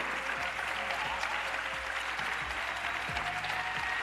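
A crowd at a town hall gathering keeps up a continuous wash of clapping, moderately loud and even throughout, with a faint low hum underneath and no talking.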